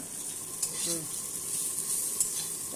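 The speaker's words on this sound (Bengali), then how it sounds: "এই যে বেরেস্তাটা করে নিচ্ছি দেখো তেল নেই জাস্ট নাড়াচাড়া দিয়ে নিচ্ছি" Fried onions (beresta) stirred in a dry pan with no oil, a steady soft hiss and scraping running throughout with a couple of sharper spoon knocks, close and fairly quiet, no talking.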